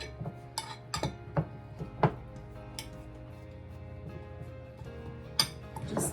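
Metal bread loaf pans clink and clatter as they are handled on a counter, a series of sharp, bright knocks spaced irregularly, close by and moderately loud with no talk.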